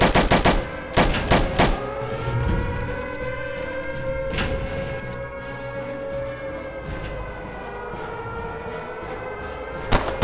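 Gunfire in Return to Castle Wolfenstein: a few sharp rifle cracks open the scene, then a single shot, a long ringing tone and a last burst near the end, all loud and close with no talk.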